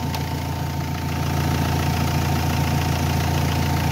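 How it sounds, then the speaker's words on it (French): A car engine keeps idling while its battery terminal is disconnected during an alternator test, a steady close hum with a faint rhythmic knock, alone without speech. "le moteur continue à tourner"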